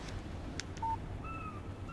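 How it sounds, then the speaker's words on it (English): A phone text message alert sounds in the video game Alan Wake as a few short electronic beeps and tones, faint over low background ambience. "Text message from Barry."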